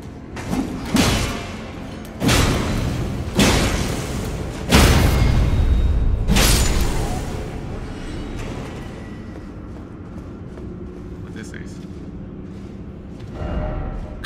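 Heavy explosions in Elden Ring Shadow of the Erdtree boom in a run of about five loud, broadband blasts roughly every second or two, each with a rumbling tail, followed by quieter ambient rumble and a faint later thump.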